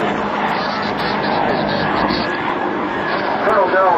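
A Canadian Forces CH-146 Griffon helicopter makes a high-speed, accelerating pass at a 2007 Air National Guard open house in Rhode Island, a loud, steady broadband roar with an announcer talking over it throughout.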